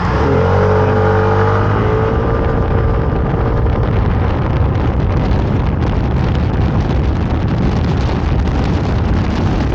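A Dink-R 150 scooter accelerates hard, its engine note rising steadily under heavy wind buffeting on the microphone for the whole stretch, loud and close with no talk.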